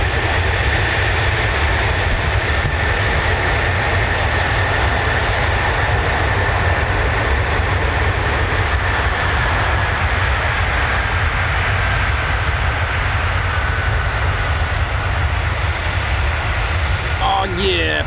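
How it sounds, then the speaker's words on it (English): An F-35B stealth jet powered by a Pratt & Whitney F135 turbofan with a Rolls-Royce lift system roars steadily and loudly for the whole stretch, a constant broadband engine rush with no pause. "Pratt & Whitney F-135 turbofan merging with Rolls-Royce lift system"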